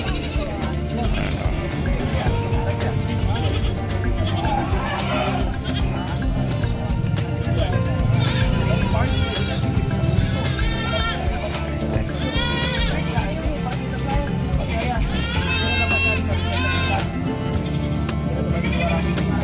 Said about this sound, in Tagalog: Daming mga kambing.